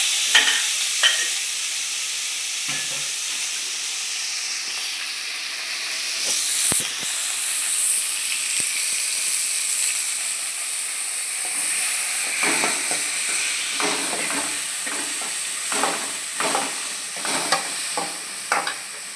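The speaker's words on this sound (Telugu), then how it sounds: "టమాటా కూడా ఆయిల్లో మెత్తగా వేయించుకోవాలండి" Tomato frying in oil in a pan: a steady close sizzle and hiss runs throughout, with scraping stir strokes that get busier in the second half. No voices.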